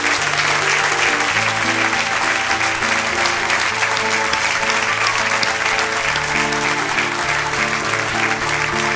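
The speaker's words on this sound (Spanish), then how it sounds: "le mandamos con un gran aplauso a ellos." A church congregation in Talcahuano applauds steadily and loudly throughout, a dense, sustained wash of clapping with organ or keyboard chords sounding underneath.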